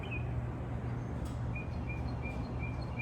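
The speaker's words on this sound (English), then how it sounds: "as you can probably hear, the birds are chirping in the background" Faint, repeated bird chirps at an RV resort, short high calls scattered over a steady low outdoor hum with no talking.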